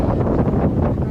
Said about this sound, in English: it's a bit windy, as you can see